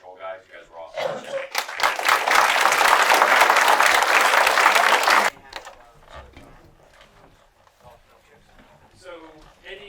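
A round of applause breaks out for patrol scouts at a Boy Scout troop court of honor, a dense burst of indoor clapping from the audience lasting a few seconds before cutting off, with a speaker's voice before and after.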